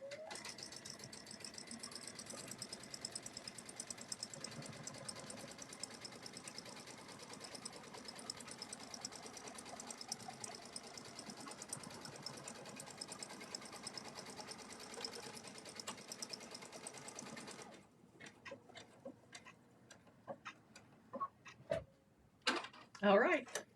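A sewing machine stitches a buttonhole in a continuous mechanical whir for most of the clip, then stops abruptly, followed by a few scattered clicks and handling noises; a voice speaks faintly alongside.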